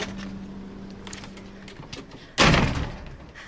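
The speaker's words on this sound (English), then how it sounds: "I'm just going to go through the side door here." Hospital side door at a military complex swinging open, then shutting with a single loud thud near the end, after a quiet stretch with a faint steady hum.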